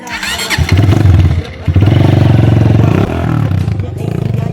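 Motorcycle engine running loud and close, a rough mid-pitched rumble with revving surges, briefly dropping before picking up again, while a voice talks over it.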